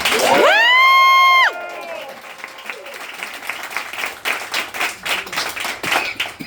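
Crowd at a political rally in Erie, Pennsylvania bursts into loud, sustained clapping and cheering, with a sharp whistle or shout at the start, the applause continuing as a dense, wash of hands throughout.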